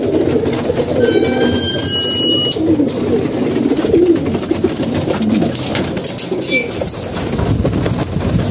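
Pigeons kept for breeding coo steadily in a loud, busy loft, with bursts of wing flapping and scattered chirps over a constant rumbling background.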